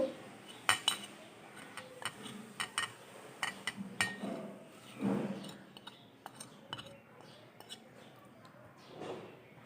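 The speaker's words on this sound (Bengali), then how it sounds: "টক দই এবং সব মশলাগুলো আমি এখন এই টক দইয়ের সাথে মিক্সড করে নিব" Sour yogurt and spices are stirred in a bowl with a spoon, giving irregular close clinks and scrapes of metal on the dish at a soft level, with some faint talk.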